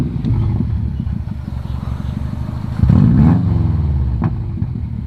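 Car engine with a newly fitted exhaust idling with a deep, close rumble, then briefly revved around midway into a louder rising growl before settling back to idle; no talking over it.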